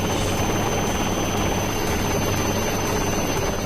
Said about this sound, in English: the helicopter touches down on Vikrant's virgin deck